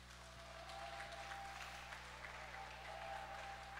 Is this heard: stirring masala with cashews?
no